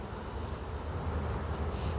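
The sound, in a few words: bees buzzing during a hive inspection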